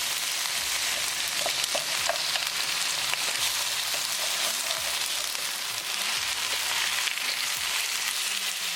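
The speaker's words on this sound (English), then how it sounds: "we're going to cook okra until it's nicely cooked" Frozen okra fries in a pan with a steady, even sizzle that runs unbroken throughout, with occasional faint crackles and no voices.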